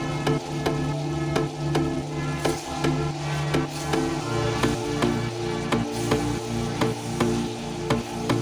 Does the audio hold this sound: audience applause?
no